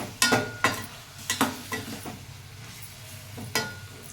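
Food fries in a pan with turmeric, with a low steady sizzle broken by several sharp scraping and clattering strokes of a spoon against the pan, close and fairly loud.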